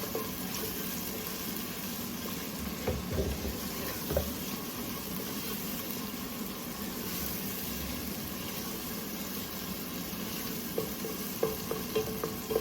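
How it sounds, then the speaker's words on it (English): Tomato paste sizzles and fries in a pot for an oxtail stew sauce, with a steady dense hiss and scraping stirring clatters rising above it now and then, close up and with no talking. "And this tomato paste, you have to keep stirring it."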